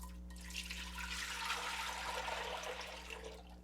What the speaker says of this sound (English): I'm just going to take this bleach water and put it in here